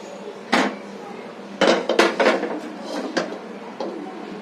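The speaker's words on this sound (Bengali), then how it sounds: "কড়াই নিয়েছি" A metal kadai is set down and handled on a gas stove, producing a handful of sharp, close metallic clanks and knocks spaced irregularly over a quiet background.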